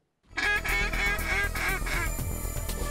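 Canada geese honk loudly overhead during a goose hunt, a rapid, overlapping chorus of harsh calls from several birds that starts abruptly and continues without talk.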